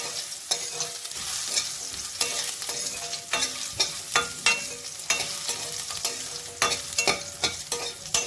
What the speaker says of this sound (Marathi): रताळं मी आधी घातलेलं आहे थोडं परतून घेऊया